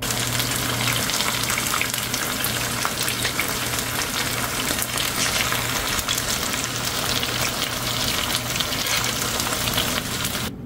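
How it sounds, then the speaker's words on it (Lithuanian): Loud, dense frying in clarified butter, a continuous crackling sizzle that hisses evenly throughout with no pauses, close to the pan. "Kepsiu aš ant to lydyto sviesto vadinamą."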